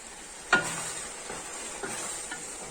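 Urad dal and potatoes fry in a pan, a steady close sizzle with a sharp stir or scrape near the start and a couple of softer stirring knocks after.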